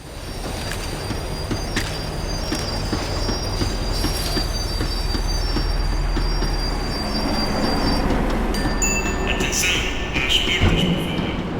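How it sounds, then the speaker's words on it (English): A tram in the video game Max Payne 3 slows down with a loud, continuous rail rumble, high wheel squeals and metallic clanks from close aboard, ending in a shrill screech as it brakes. "The tram was slowing down, and I'd only just gotten on board."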